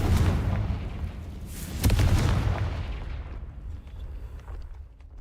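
A Confringo fire spell explodes in the Hogwarts Legacy video game: a loud booming blast at the start, then a second heavy burst that rolls into a long, fading rumble.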